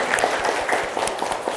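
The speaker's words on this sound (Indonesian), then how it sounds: "tepuk tangan untuk kita semuanya" A class of students applauding in a classroom, a brief scattered round of clapping at moderate level, with faint voices mixed in.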